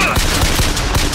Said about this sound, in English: they're shooting me from a distance like that